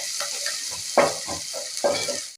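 Onion, ginger and crushed garlic frying and being stirred in a pan, a steady broadband sizzle with a few louder scraping bursts as the spoon moves, close and alone.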